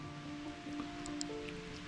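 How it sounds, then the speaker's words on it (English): Rain falls on a lawn as a soft, steady patter, faint and close, with a few scattered drops standing out, and no talking. "It's actually raining right now."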